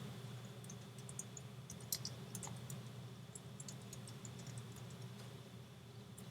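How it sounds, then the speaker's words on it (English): Faint, scattered clicks of typing on a computer keyboard into a search bar sound over a steady low hum. The keystrokes come in irregular bursts. "I'm going to go up to the search bar at the top, and I'm going to type in General Electric"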